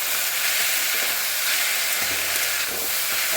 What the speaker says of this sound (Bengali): এখন পেঁয়াজটা আরও ভাজা হবে, তার সঙ্গে আলুটাও ভাজা হয়ে যাবে।